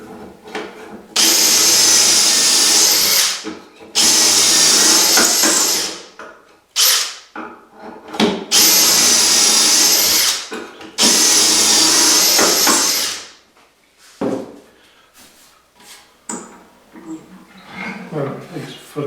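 A power drill bores dowel holes through a Dowelmax jig into wood for a mitered rail table top, five loud whining bursts of a few seconds each with short pauses, followed by quieter handling clatter.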